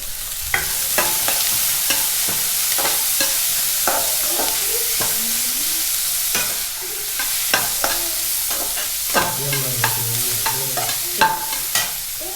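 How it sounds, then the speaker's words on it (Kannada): Cinnamon, cloves, tomato, garlic, coconut and coriander leaves fry in a pan for mutton sambar. A loud, close sizzle runs underneath repeated metal spatula scrapes and clinks, and the stirring gets busier toward the end. "ಇದು ಸ್ವಲ್ಪ ಬ್ರೌನ್ ಕಲರ್ ಆಗೋವರೆಗೂ ಫ್ರೈ ಮಾಡ್ತಾನೆ ಇರಲಿ"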